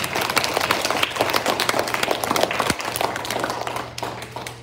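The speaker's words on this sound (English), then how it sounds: "So another round of applause." Applause for third grade teachers at a school awards gathering, a small group clapping in brisk, uneven patter nearby that thins out toward the end.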